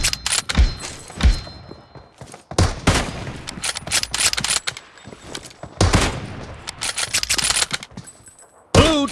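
Gunfire in PUBG Mobile team deathmatch, with KAR98K rifle shots and bursts of automatic fire: loud, close cracks and rapid volleys in clusters separated by short quiet gaps.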